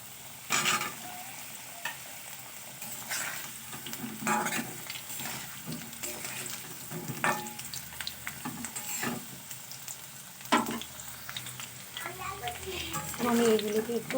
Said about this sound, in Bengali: আলুগুলোকে একটু আমি নাড়াচাড়া করে নিলাম তেলের মধ্যে